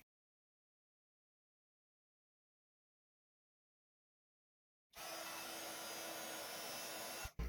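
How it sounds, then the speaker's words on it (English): Heat embossing tool switching on after silence, a steady blowing roar like a small hair dryer with a faint tonal hum, running for a couple of seconds before cutting off abruptly. "so I'm going to just heat emboss this in white."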